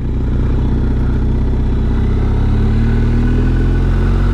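A motorcycle rides along an open road on a long-distance trip through Europe toward the Arctic, its engine a loud, steady drone with rising pitch as it accelerates, plus continuous wind and road rumble and no voices.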